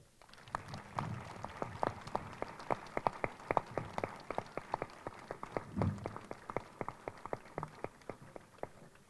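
An audience at a town fair's opening gala, with a youth proclamation, literary contest and inaugural speech, gives scattered applause as the young people leave the stage; the claps are sharp, distinct and fairly faint, with no talking.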